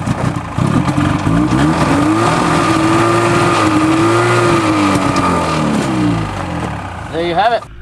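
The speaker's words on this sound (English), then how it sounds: "In order to make it move, all you have to do is apply the gas to engage the belt." A snowmobile engine revs up as the throttle engages the drive belt, a loud rising then sustained motor drone close by, with someone talking over it and a brief final rev near the end.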